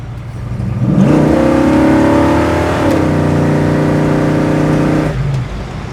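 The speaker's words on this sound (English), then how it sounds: "Car has great acceleration." A 1970 Chevrolet Chevelle with cold air intake revs and accelerates up close, its loud engine and exhaust climbing in pitch, holding a steady roar for several seconds, then easing off.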